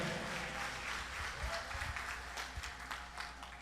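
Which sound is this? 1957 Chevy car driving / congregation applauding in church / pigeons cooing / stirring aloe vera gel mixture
congregation applauding in church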